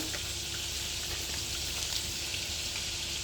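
About 50 grams of butter sizzles steadily in a pan, a continuous crackling hiss that runs the whole time at an even level with no voices.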